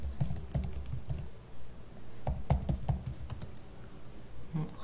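Rapid clusters of key presses on a computer keyboard as a password is typed, quick clicky taps in bursts with short pauses, fairly close and alone.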